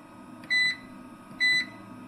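Two short electronic beeps from an Anenji ANJ-MAX-8KW-TW inverter, evenly spaced about a second apart, clear and close over a low background hum.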